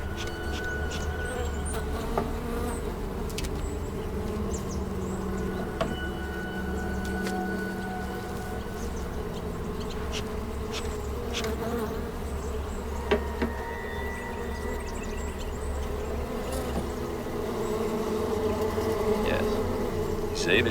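Bees buzz steadily around an open, tampered and dilapidated beehive, a dense continuous drone close by with occasional individual insects passing, and no talking.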